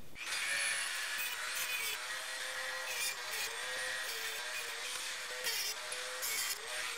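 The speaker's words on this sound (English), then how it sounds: "Now we'll go in with an abrasive cutoff wheel and we'll create pockets for those ball detents to" Abrasive cutoff wheel grinding pockets into steel vise parts, a continuous high-pitched whine with gritty hiss that wavers in pitch as pressure changes, with brief bursts of sharper cutting noise.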